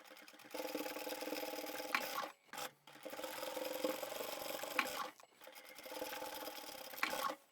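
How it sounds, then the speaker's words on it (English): A sewing machine stitches the corners of a handbag with multiple zippers and pockets, running in three steady bursts separated by brief pauses, close and fairly quiet with no talking. "We'll go and take that to the machine and stitch them up."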